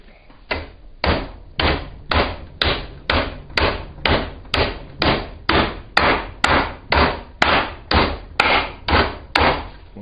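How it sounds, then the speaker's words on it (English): A big hammer strikes armor plate in a steady series of about eighteen loud, close blows, evenly spaced and each ringing briefly before the next. "Let me grab a big hammer. Okay, there's the big hammer."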